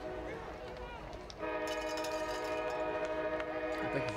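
A train horn sounds as a train passes Legion Stadium in Silicon during a high school football game, a sustained chord-like blare starting partway through and holding steady in the distance, with crowd murmur and a commentator's voice beneath it.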